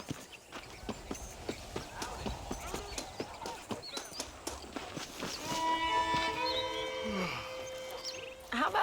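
Horse hooves clip-clop in a steady walking rhythm during a ride in the Western video game Red Dead Redemption, with game music swelling underneath toward the end.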